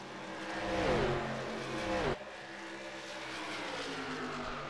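Race cars in a stock car race at Darlington Raceway sweep past, engines rising to a loud peak and then fading, followed by a steadier distant drone.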